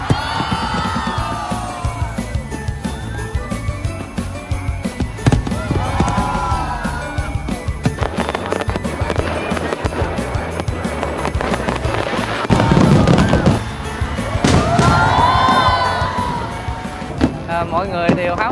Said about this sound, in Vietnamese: năm nay có vẻ là nó có những cái pháo bông bắn tầm cao đó